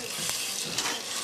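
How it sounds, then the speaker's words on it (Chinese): Thin Iberico pork slices dry-frying in a pan without added oil as their fat renders out, giving a steady, dense close sizzle that hisses continuously throughout. "这边没有过油，我就是直接干煎"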